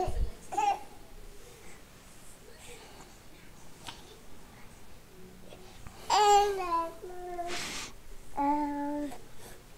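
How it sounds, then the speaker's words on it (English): A fussy, upset baby babbles and whines in short vocal bursts with rising squeals, fairly close, over a quiet room with faint background sounds. "Why such an angry baby?"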